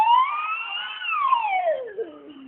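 A voice imitates an ambulance siren, a sustained wavering wail that rises slightly and then slides downward, close and fairly loud.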